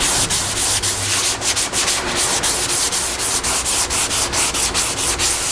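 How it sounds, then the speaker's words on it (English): Polyester body filler is sanded on a car body with quick back-and-forth strokes, a loud, close, rhythmic rasping that repeats steadily throughout. "kind of feather off this polyester down into here and get rid of this roughness"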